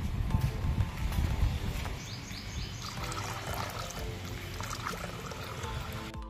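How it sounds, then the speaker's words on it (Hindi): Water poured from a container fills an outdoor bowl set out for birds and squirrels, a splashing gurgle up front that thins into a lighter trickle and dribble, moderately close. "तो गाइस पानी लेके चलते हैं और उस बाउल में डालते हैं।"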